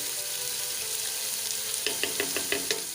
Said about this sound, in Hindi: हमारा गोश्त बहुत अच्छे से भुन रहा है।